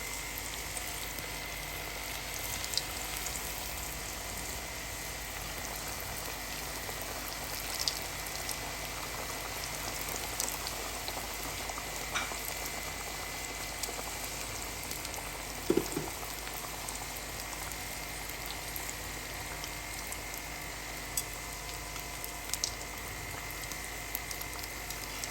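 Homemade vegetable samosas deep-fry in hot oil with a steady, faint bubbling and fine crackle that continues evenly. No voices are heard.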